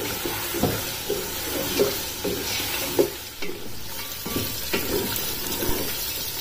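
Taro and mutton frying in oil with garam masala in a pan, a continuous moderate sizzle broken by regular scraping stir strokes every second or so.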